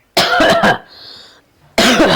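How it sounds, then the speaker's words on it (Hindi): A burst of harsh coughing up close, then a brief quiet gap before another loud round of coughs. "अम्मा का बहनी बड़ी खांसी आती तोहरे"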